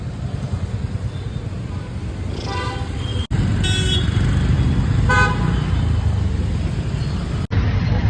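Congested city road traffic with a steady, loud engine roar and several car horn toots sounding near, in short repeated bursts over the continuous rumble.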